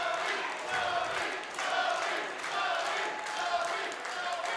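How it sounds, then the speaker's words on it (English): Crowd cheering and applauding at an international axe throwing championship, a steady broad wash of cheers with brief swells, a voice audible within the noise. "the crowd showing their support for Zoe as well"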